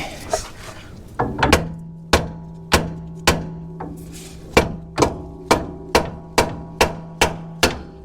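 A hammer strikes a ball joint on an off-road upper control arm repeatedly, sharp ringing metal blows at a steady, even pace, about a dozen hits close up.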